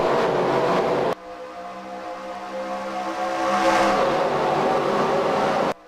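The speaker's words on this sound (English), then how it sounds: "You can hear the engines right there, kind of sputtering a little." Race car engines in a NASCAR-style racing video game at Talladega, a loud broadband roar that drops after about a second, then a steady sputtering, slightly rising engine drone before cutting off.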